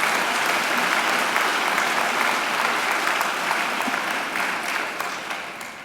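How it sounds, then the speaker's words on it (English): A hall full of graduates and guests gives a long round of applause at a university graduation ceremony, dense even clapping that holds steady and then gradually thins and fades toward the end. "Richard deserves another great round of applause for his occasional address"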